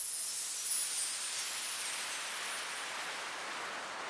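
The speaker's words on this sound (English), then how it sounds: "a nice little effect, some white noise going down here" A bright wash of white noise hisses steadily, its brightness slowly falling as it sweeps downward, with nothing else beneath it.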